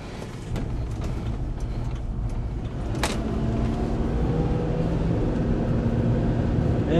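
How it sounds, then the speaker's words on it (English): A Ford Ranger pickup with the Vulcan engine driving along a road, a steady engine drone and road noise building slightly, with a brief rattle or click partway through and no talking. "It's a pretty slow truck, to be honest with you, with the Vulcan engine."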